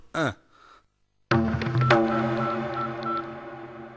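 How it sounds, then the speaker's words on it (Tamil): A telephone being dialed, with a short burst of tones followed after a pause by a longer ringing, tonal signal that holds steady and fairly faint. "டேய் வண்டு, துரபாண்டி மாமா ஃபோன் போடு."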